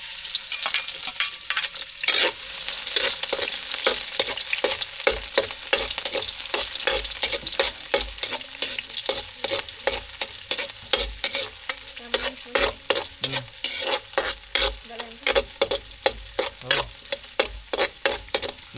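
Sliced onions sizzle in hot oil in a pan for pancit, a steady frying hiss broken by repeated scraping strokes of a spatula stirring them, close and fairly quiet.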